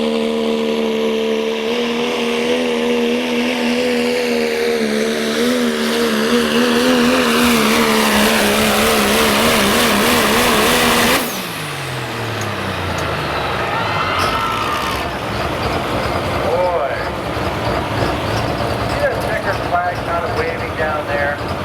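Diesel pulling truck roaring loudly at a truck pull, its engine note climbing and straining for about eleven seconds before cutting abruptly to a lower, rougher rumble with crowd and announcer-style talk underneath.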